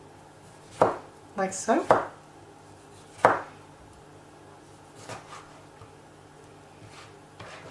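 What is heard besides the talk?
knife slicing tomato into thin slices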